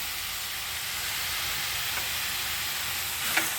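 Watermelon peel cooks in ghee in a pan for halwa before sugar goes in. It gives a steady, even sizzling hiss throughout, with a faint clink near the end and no voices.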